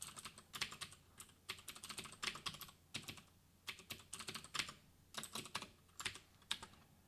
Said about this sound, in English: I connected my mechanical keyboard to the PC, so that's why you're hearing the